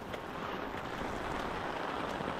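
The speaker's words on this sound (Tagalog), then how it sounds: "Yan, malakas ulan. Hangin pa." Heavy rain with wind at the Marikina River by a bridge, a steady broadband hiss of downpour that is continuous and even, fairly close, with no voices.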